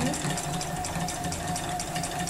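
A home sewing machine stitches steadily during free motion quilting, its fast, even mechanical whir running continuously and close by without pauses.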